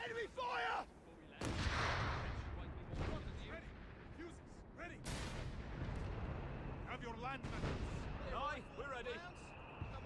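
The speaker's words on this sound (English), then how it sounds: "Land mattress ready to fire." Land Mattress rocket barrage firing in a Company of Heroes match, a string of loud whooshing launches and booming blasts spread across the scene, with voices talking over the battle throughout.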